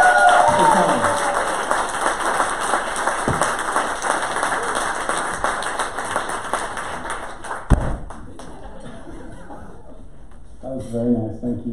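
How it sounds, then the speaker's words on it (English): Audience at an education conference keynote in Toronto applauding, sustained crowd clapping for several seconds that thins out and fades, followed by a quieter stretch with a brief voice near the end. "I'd just like to have a round of applause, maybe 2 rounds of applause for Sean."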